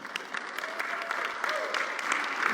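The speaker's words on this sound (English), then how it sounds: "The Message says, all together now, applause for God." A church congregation claps together in continuous applause, many hands at once, steady and moderately loud with no talking over it.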